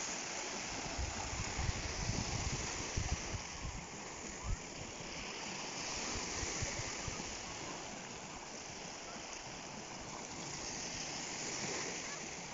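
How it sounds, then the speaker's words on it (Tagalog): Calm sea lapping at a beach, a soft continuous wash of water with gentle splashes, fairly faint and steady with no clear talk. "Kalmado ang dagat."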